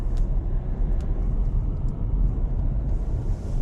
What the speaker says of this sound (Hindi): चलते चलते ही घूम रही है गाड़ी